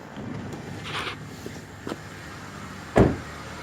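A 2010 Honda Civic EX engine idles steadily nearby after starting, a low even rumble with a sharp thump near the end and no voices.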